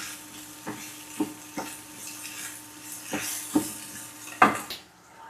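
Beef being stirred in a cooking pot over a very low flame, home-style Bengali beef curry with ground cumin paste; a steady soft sizzle with scattered scraping clinks of a spoon against the pot, the last one loudest, no talking.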